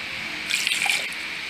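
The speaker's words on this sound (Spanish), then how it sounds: "Vamos a ponerle un cuartito de agua." Water is poured into a stone molcajete of salsa, a brief splashy trickle that rises and falls over about half a second against a quiet background.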